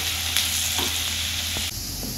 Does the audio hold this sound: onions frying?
yes